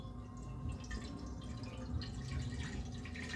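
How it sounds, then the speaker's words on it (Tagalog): Mineral water being poured into a cooking pot, a faint, soft trickle with light splashing against low background hum. "So, maglalagay tayo ng tubig. Ayan. Tubig guys. Mineral water."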